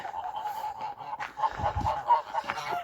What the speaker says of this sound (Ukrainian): Це такий жовтий гусак.